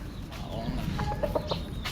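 Sweater gamefowl roosters cluck a few short times, soft and somewhat distant, under steady background noise.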